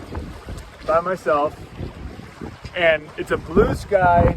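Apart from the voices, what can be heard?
sailboat sailing a beam reach through small waves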